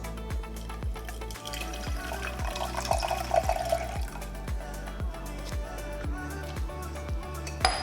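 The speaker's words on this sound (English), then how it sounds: "I'm going to be adding my distilled water into my vegetable glycerin and my xanthan gum." Distilled water is poured into vegetable glycerin and xanthan gum, a steady liquid trickle at close range under a regular thumping beat that pulses throughout.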